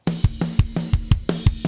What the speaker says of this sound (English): So just by itself, the parallel compression bus sounds like this.